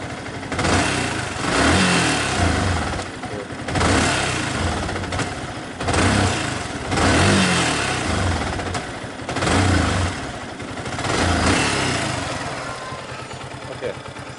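A Yamaha R15 motorcycle with a stalling fault runs unevenly. Its engine swells and sags in repeated surges every couple of seconds, loud and close, with steady mechanical rumble underneath.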